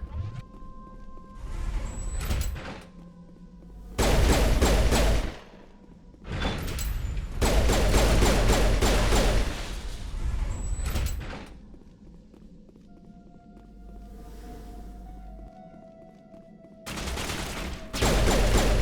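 Shotgun fire in the video game Mass Effect comes in loud, close bursts of rapid shots. The bursts are separated by quieter combat noise and mechanical clatter.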